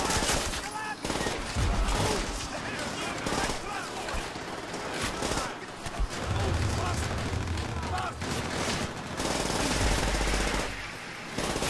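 Rapid automatic gunfire from Call of Duty: World at War, dense bursts rattling almost without break with short pauses between, mixed with low thuds of other weapons, while players talk over the shooting.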